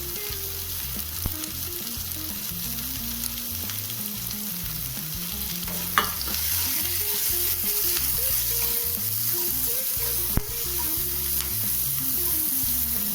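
Roughly chopped onions sizzle and fry in a pan, with a steady close hiss and occasional clanks of a stirring utensil against the pan.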